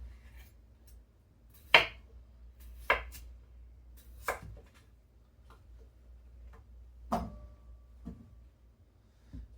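A knife cuts potatoes on a cutting board, producing sharp, isolated chops spaced a second or more apart, with quiet pauses in between.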